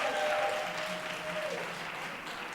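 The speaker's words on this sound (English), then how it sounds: "Y'all clap it up again." Sustained applause from a crowd, steady and fairly distant, with faint voices mixed in.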